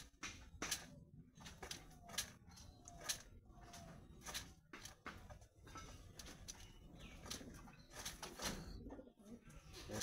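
Pigeons in a flying loft of high-flying breeding birds, males, females and young kept together, coo repeatedly at close range, mixed with sharp scuffs and occasional wing flutters.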